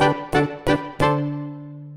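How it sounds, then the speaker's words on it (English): Four short synthetic notes from basic General MIDI instrument sounds, evenly spaced, with the last chord left ringing out and fading. "So whereas general MIDI would sound like this,"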